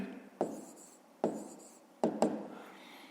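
A pen scratching out strokes on paper during a fifth-grade maths exercise: four short, distinct bursts of scribbling, close and quiet, with pauses between them.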